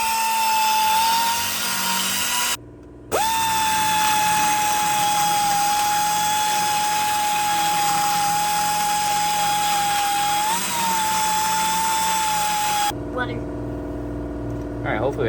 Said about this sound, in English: hopefully we have enough of that grinded off